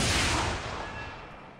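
A single loud video game gunshot, booming and then decaying into a long reverberant tail over under two seconds, with no talk.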